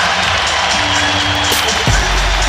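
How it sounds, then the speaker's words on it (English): NBA arena crowd at a Suns versus Warriors game roaring and applauding in a steady, loud wash of noise, with a low thump near the end as the cheering carries on. "And in a blink, the crowd comes alive."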